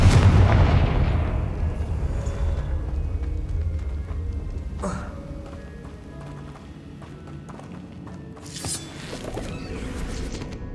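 Spells cast in Hogwarts Legacy, including a Confringo fire blast, produce a loud burst of game combat noise that fades over several seconds, with further impacts and a sharp crackling flare near the end.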